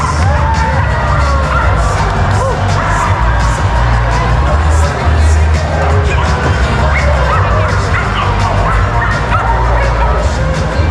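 Performing dogs at a big fair's evening dog show bark and yip repeatedly amid a loud, cheering crowd with children shouting, the whole scene dense and continuous with voices mixed in.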